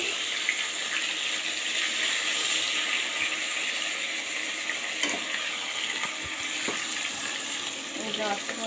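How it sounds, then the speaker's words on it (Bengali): Pieces of hilsa fish fry in a pan with a steady, loud, close hiss of hot oil, broken by a few soft clicks as the pieces are turned. "এই যে আমরা সুন্দর করে উল্টিয়ে পাল্টিয়ে ভেজে নেব।"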